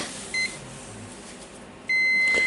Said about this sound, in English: You can hear the beep sound.